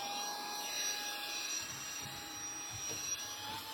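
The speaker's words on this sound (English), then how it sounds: "Another reason why this is my favorite vacuum cleaner." A portable multipurpose handheld vacuum cleaner runs with a steady, close motor whine and airy rush that hold constant throughout, with no one speaking.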